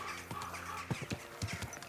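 Horse hooves clip-clop in Kingdom Come: Deliverance 2, a handful of distinct thuds in a loose trotting rhythm, fairly close and moderately loud, over a steady bed of game ambience.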